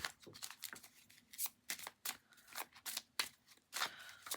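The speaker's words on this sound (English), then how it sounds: "we're going to go shuffling the other deck" A tarot card deck being shuffled by hand, giving quiet, crisp riffling bursts at an uneven rhythm, each a short papery flutter with soft pauses between, close and with no talking.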